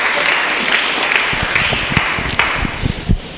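A church congregation breaks into applause after a Bible reading, a full, steady roomful of clapping lasting a few seconds.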